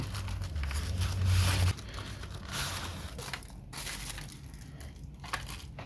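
Hornby model train carriages from a Caledonian Sleeper pack are unwrapped from their packaging, with continuous close crinkling and crushing of plastic and paper, louder at first and then softer.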